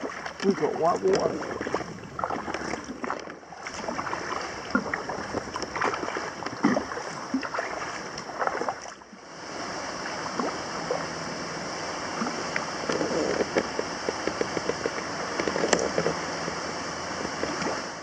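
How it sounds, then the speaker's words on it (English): White water rushing through a stream swollen after rain, a continuous turbulent roar with splashing, close and steady, briefly dipping near the middle before resuming, with occasional handling noise. "we've got white water."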